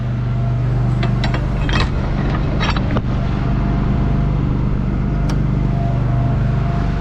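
Tractor engine idling steadily after a jump start from two jump packs, a constant close low hum with a few brief metallic clicks and rattles early on.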